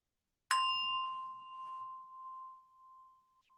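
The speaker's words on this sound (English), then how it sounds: "I'll just ring the bell." A single bell is struck once, ringing out with a clear tone that slowly fades over about three seconds in a quiet room.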